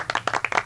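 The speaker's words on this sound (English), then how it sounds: "I love all the clapping sound effects." A quick, faint patter of clapping from a video game, half a dozen light claps in under a second.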